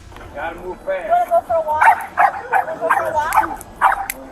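A pitbull barks and yips in a street setting, giving a string of short, high, whiny bursts in an uneven rhythm that sound close and fairly loud.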